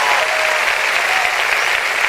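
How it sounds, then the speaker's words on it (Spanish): Church congregation at a Spanish-language worship service applauding loudly, a dense, sustained wall of clapping that holds steady throughout with no gaps. "Pero aplaudan bien."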